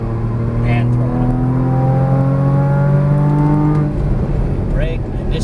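A Porsche Cayman GTS engine pulls hard under throttle, its rising harmonic tone loud and close for several seconds before easing off, while a voice speaks over it.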